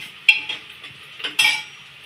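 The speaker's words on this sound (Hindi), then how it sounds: "अब इसमें डालेंगे टमाटर।" Tomatoes tipped into frying onions in a pan: a few sharp metallic clinks and scrapes of a spoon on the pan over a faint, steady sizzle, close and alone.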